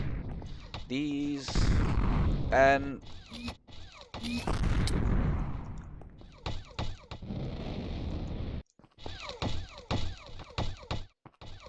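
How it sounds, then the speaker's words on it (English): Cannon blasts in a video game, several sharp booming reports scattered through the stretch, some landing between a player's spoken remarks and some standing alone. "So I'm going to fire a cannon at him."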